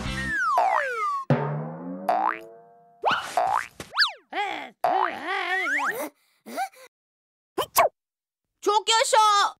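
A cartoon creature in a space-themed children's cartoon sneezes in bursts among springy boing effects and bright chirpy sounds, all loud and close with short silent gaps.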